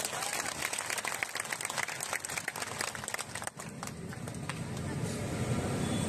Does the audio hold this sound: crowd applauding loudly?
yes